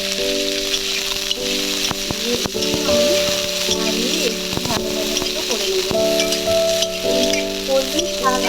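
Water spinach stems hit hot oil in a wok for a village-style dish, giving a steady, close sizzle with stirring rattles throughout, under faint voice sounds and sustained tonal background music.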